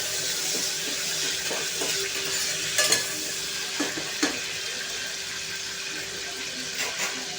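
Chopped tomato sautéing in a pan, with a steady soft sizzle and a few light clinks of stirring running throughout, no talking.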